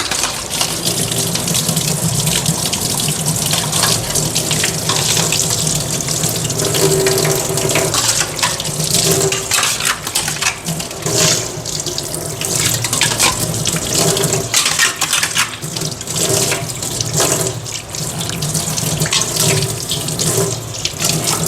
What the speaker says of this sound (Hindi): बस एक ये धो लिया मैंने, इसको ज़्यादा कर दिया, और सिर्फ एक तवा ये धो लूँगी, नॉन स्टिक का ये तवा।